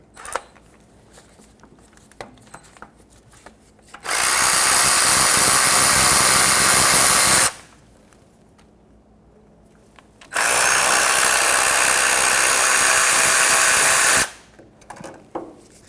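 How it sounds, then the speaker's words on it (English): A power tool fitted with a 10mm socket removes the starter bolts on a 2000-2005 Ford Excursion in two long, loud whirring runs separated by quieter pauses, close up, with no talking. "So let's get those off with, once again, a 10mm socket."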